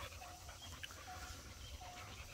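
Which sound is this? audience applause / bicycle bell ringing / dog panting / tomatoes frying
dog panting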